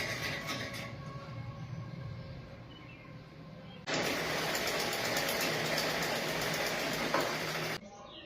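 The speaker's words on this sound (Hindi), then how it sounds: "इस तरीके से पूरे पे दाग सिलाई लगानी है" A sewing machine stitching fabric, a steady mechanical whirr that grows noticeably louder and denser midway, runs for about four seconds and then stops abruptly.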